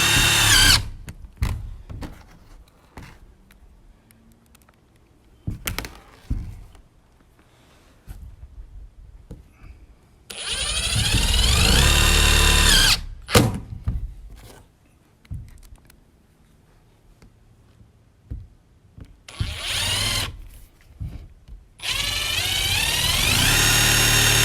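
A power drill drives supplied screws into the ceiling of an enclosed cargo trailer toy hauler in several separate loud bursts, with quiet handling clicks and knocks between them and no speech.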